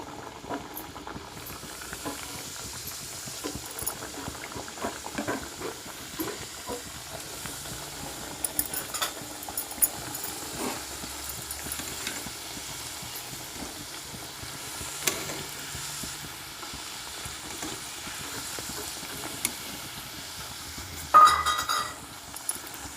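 Pasta nimiki fries in oil in a kadai, a steady low sizzling hiss with faint clinks and stirring scrapes throughout, close and fairly quiet, with a brief louder clatter near the end.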